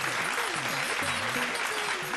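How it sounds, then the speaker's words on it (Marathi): An audience bursts into continuous applause for a performer being invited onstage at a Mangala Gaur celebration in Mumbai, dense, steady clapping that fills the room, with voices faintly mixed in. "जोरदार टाळ्या सुहासताईंसाठी"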